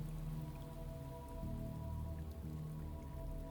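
Steady rain falling in the detective game Shadows of Doubt, a continuous dense patter of drops on surfaces, fairly loud and unbroken throughout, with a low hum underneath and no talking.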